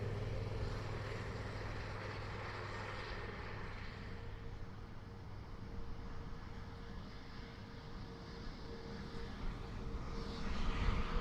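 A Boeing 787 Dreamliner arriving from Toronto at Dublin Airport gives a steady, distant jet roar and rumble that holds throughout and swells slightly near the end.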